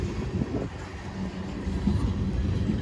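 A long freight train rumbles past near Lake Avenue in Blasdell, New York, a steady low rolling roar with faint rhythmic wheel clatter, continuous and fairly close.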